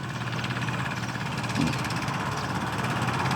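A small Kubota or Yanmar tractor, likely a three-cylinder, runs nearby during rice-field plowing. Its engine makes a steady, throbbing diesel drone at an even pace for the whole stretch.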